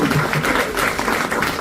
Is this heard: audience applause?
yes